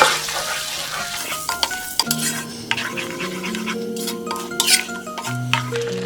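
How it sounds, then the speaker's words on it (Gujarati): Onion and tomato paste sizzles in a pan over medium-low gas, a gentle hiss punctuated by close, irregular stirring scrapes and light clinks of a spoon against the pot. "મીડિયમ ટુ લો ગેસ ઉપર આપણે આ પેસ્ટને સરસ કુક કરી લઈએ"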